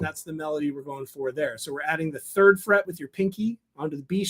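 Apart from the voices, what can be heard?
No distinct noise like a dog, phone or traffic.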